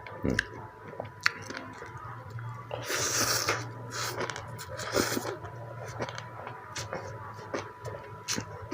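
Close, wet chewing and crunching while eating spicy Thai som tam papaya salad, with smacking and breathing sounds, a faint hum beneath.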